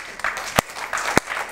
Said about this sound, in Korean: 박수 분명히 다 쳤습니다.